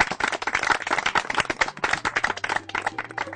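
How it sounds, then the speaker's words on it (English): A church congregation claps for Jesus, brisk, dense handclaps close by, steady and rhythmic for a few seconds without speech. "let's clap for Jesus"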